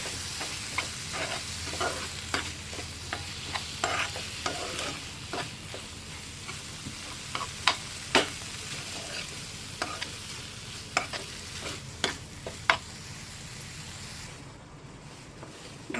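Squid sizzles in a pan as it sautés in its own released water while a utensil stirs and scrapes, giving irregular clicks and taps over a soft, steady frying hiss.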